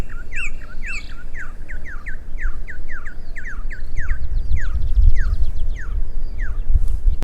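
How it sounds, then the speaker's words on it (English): A Venezuelan troupial sings a loud, clear song of repeated, quick, downward-slurred whistled notes in a steady series, close by over a low background rumble. "their main song sounds like they're almost saying their name, Troupial"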